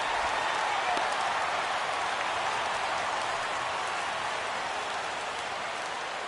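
A crowd of around 26,000 fans in a baseball stadium in the MLB The Show video game, Brewers versus Nationals, cheers and roars steadily as they rise to their feet, a dense wash of noise that holds throughout.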